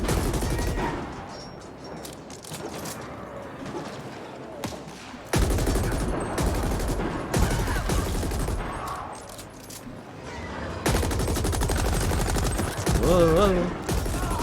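Rapid bursts of automatic gunfire from The Ascent video game crackle in dense volleys, with brief pauses between strings of shots, loud over game sounds and occasional speech.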